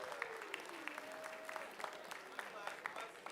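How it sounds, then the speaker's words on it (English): Audience applause at a livestreamed high school Writers Week event, a crowd clapping steadily with a dense patter of individual claps throughout, moderately loud, with a faint tone underneath. "Round of applause."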